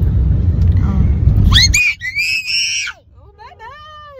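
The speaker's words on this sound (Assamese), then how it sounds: "ইমান চিঞৰিছে।" A young child on the first day at play school gives loud, high-pitched screams in short bursts close up, after a stretch of low rumbling background noise.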